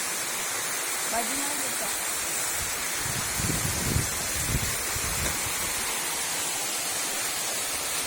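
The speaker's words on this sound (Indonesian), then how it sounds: "Lihat guys, air terjun guys. Air terjun Bukit Condong guys." Bukit Condong waterfall pours in a continuous broadband roar that stays steady throughout, with people talking nearby over the rushing water.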